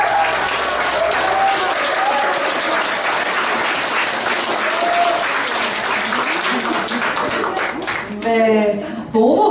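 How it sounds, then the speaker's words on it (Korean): Sustained audience applause fills a Korean broadcast book concert, a dense even roar of many hands from start to finish, with a brief sung phrase surfacing near the end. "한 번 더 큰 박수 부탁드립니다"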